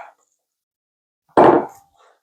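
Sourdough starter drops into a bread dough mixture with a single soft, thick plop, brief and close, after near silence.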